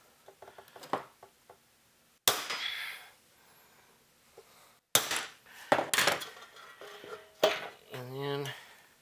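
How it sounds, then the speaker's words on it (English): Sharp metallic strikes of a punch marking a metal tube amplifier chassis for drill holes ring out one at a time with gaps between them, close and loud, amid clinks and light handling noise. "So let's go ahead and punch mark these"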